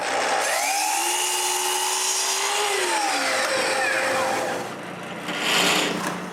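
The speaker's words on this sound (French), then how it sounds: "Je commence par couper des bouts de contreplaqué pour faire les côtés." A power saw cuts through plywood pieces in a woodworking shop, its whining pitch rising and bending as the blade bites, then easing off before a short second burst near the end.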